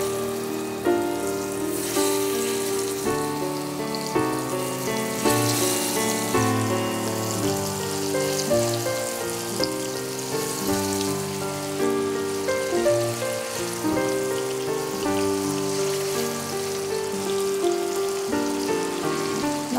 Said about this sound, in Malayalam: നമ്മൾക്ക് ഒറ്റ ട്രിപ്പിന് തന്നെ വറുത്തെടുക്കാം